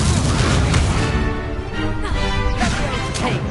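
Blasting spell explosions from a wizarding video game, Confringo, sounding as loud, dense booms and crashes that follow one another over a rumbling, busy game soundscape with no pause.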